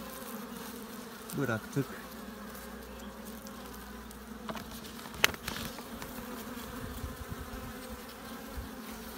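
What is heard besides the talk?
honey bees buzzing during feeding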